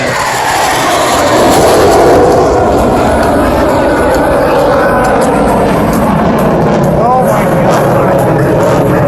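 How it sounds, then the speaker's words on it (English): An F/A-18 Super Hornet jet performing an aerobatic maneuver at an air show gives a loud, continuous, roaring engine rumble that holds steady throughout with a faint rising whine near the end. "This demonstration illustrates the incredible pitch authority and vertical maneuverability of the FA-18."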